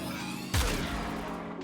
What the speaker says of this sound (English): Let's see what the secondary fire can do.